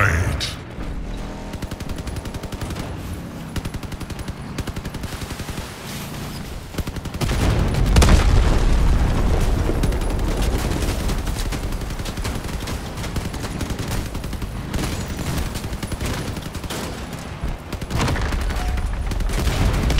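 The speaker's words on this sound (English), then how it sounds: "This is an IMP machine gun, one of the fastest firing machine guns in Crossout, and we have four of them on this creation." Four IMP machine guns firing rapidly in the vehicle combat game Crossout, a dense continuous rattle of gunfire with heavy low rumble that swells partway through and stays loud and sustained, under a game soundtrack.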